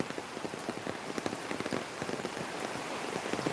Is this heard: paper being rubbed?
no